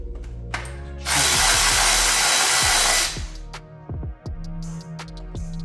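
A power tool whirs loudly for about two seconds while backing out bolts on the intake manifold of a BMW E92 335i, followed by clinks and scrapes of metal parts being handled.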